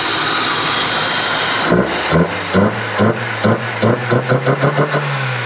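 A JDM Honda Civic engine catches after cranking and settles into a loud, close, uneven idle with rhythmic lumpy pulses, running alone without talk.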